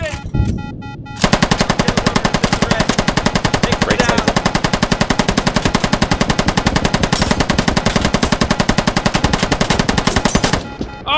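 A helicopter door gunner's machine gun fires in a combat video game, one long sustained burst of rapid, evenly spaced, loud close shots that starts after a brief pause and runs nearly ten seconds.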